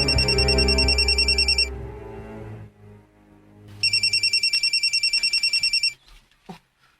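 A mobile phone rings in two bursts of rapid electronic trilling, the first over a low hum that fades out, a pause, then a second burst that cuts off as the call is answered.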